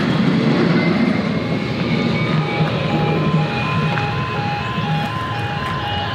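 A tram rolls steadily along its rails with a loud, continuous rumble, metallic squeals and a faint high tone running through it.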